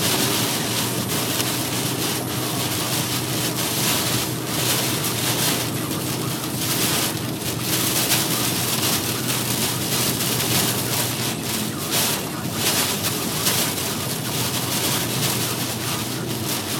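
Hurricane Irene's wind and driving rain roar steadily around a moving vehicle, a dense, loud, unbroken wash of hiss and rumble, with no voices.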